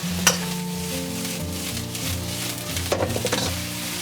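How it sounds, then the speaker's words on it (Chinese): Green and red chili peppers stir-frying in melted lard in a wok with fermented black beans, giving a steady close sizzle with a few clinks and scrapes from the spatula, and no speech. "我们再下入青红线椒，给它炒一下，炒出香味"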